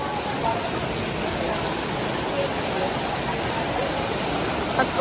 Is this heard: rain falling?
yes